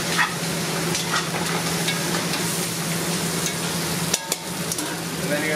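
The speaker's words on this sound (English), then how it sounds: "Give that a quick stir." Beaver stew meat and its juices are stirred in a pot, a close, steady bubbling sizzle with soft scraping and a couple of sharp knocks near the end.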